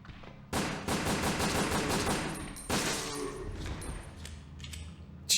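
Rapid bursts of gunfire in the Resident Evil Dead Aim video game, a loud sustained volley, a brief pause, then a second burst that trails off into scattered shots.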